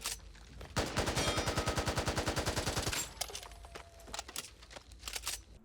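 An AK-47 assault rifle in the zombie shooter Back 4 Blood unloads a rapid, evenly spaced fully automatic burst lasting about two seconds, loud and close, followed by scattered lighter shots and clattering in the background.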